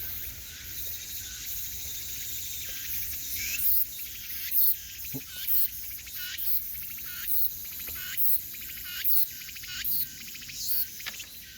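Dense, steady cicada buzzing fills the background, with a few brief louder chirps and clicks rising over it at intervals; no one speaks.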